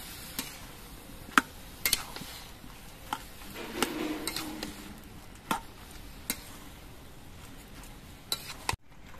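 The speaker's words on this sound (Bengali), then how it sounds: "হলুদের গুঁড়ো দিয়ে নেড়ে চেড়ে মিশিয়ে দিতে হবে।" Turmeric is stirred into bottle gourd curry in a pan, with a low, continuous sizzle under repeated sharp spatula clacks and scrapes against the pan, close by and irregularly spaced.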